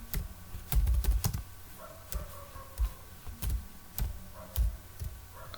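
Text is typed on a computer keyboard while coding, with irregular bursts of soft, close key clicks and brief pauses over a faint steady hum.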